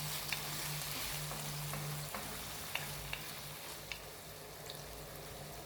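Steady crackling sizzle of finely chopped onion frying to golden in a pan for pearl barley soup, with a low hum underneath and occasional sharp pops and clicks.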